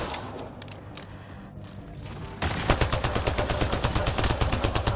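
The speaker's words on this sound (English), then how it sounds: "Oh god, they've got a machine gun." Rapid machine gun fire in the sci-fi shooter game Mass Effect Andromeda, a fast loud rhythmic burst of shots starting midway after quieter ambient game noise, with no talking.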